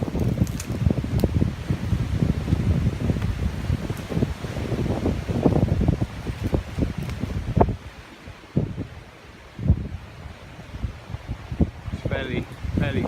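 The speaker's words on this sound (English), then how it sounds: "just to get a perspective of how windy and stormy it's been" Strong gusting wind at a hammock camp, loud buffeting roar against the microphone that surges and drops, easing briefly midway before rising again, with rustling around it.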